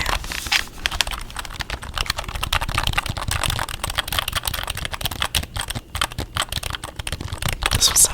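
Fingers type quickly on a computer keyboard, a near and busy run of crisp key clicks with uneven rhythm that continues throughout, with no voices heard.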